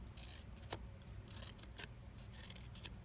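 Scissors snip cardboard tabs around a circle for a homemade rain stick, with several short, crisp cuts in uneven clusters, close and quiet with no talking.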